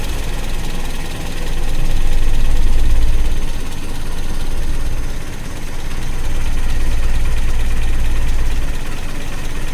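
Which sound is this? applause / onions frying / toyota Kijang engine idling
toyota Kijang engine idling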